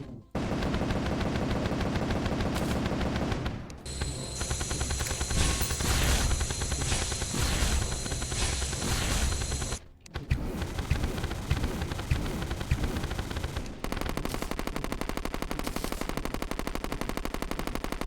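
Rapid fire from the Halibut Cannon in Terraria, a dense continuous stream of gunshot-like blasts in two long bursts separated by a brief pause, loud and alone with no voices.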